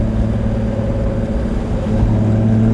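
A Porsche 911 GT3 Touring with a six-speed manual holds a loud, steady engine drone, its harmonics holding then climbing slightly toward the end as it revs during a drive on wet roads.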